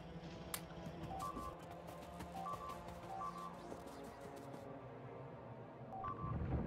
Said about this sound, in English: it wouldn't be a Jedi map without some beeping